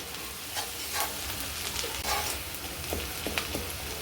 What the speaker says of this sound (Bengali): এই আদা রসুন লঙ্কা বাটাটা দিয়েও আমি একটু ভালো করে কষবো